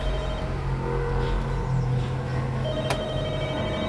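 An in-game telephone rings in a house in The Walking Dead: Michonne, a steady electronic ring tone heard over a low, constant ambient background with no talk.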